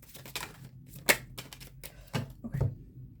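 Tarot cards shuffled by hand in short crisp riffling bursts with a few sharp snaps, close and fairly quiet, no voice over them.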